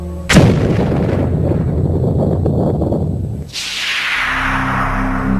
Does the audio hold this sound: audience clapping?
no